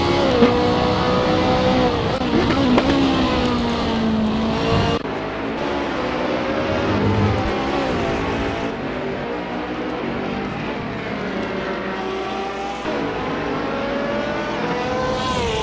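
Ferrari 458 race car from a racing video game howling around the Mount Panorama circuit at Bathurst, high revving engine with gear shifts and pitch sweeps, loud and sustained with abrupt changes in tone.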